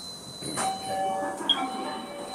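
Station chime and door-opening tones aboard an LRT Jabodebek light-rail train, a sustained electronic tone with a bright short ding near the middle, over steady train hum with faint background voices.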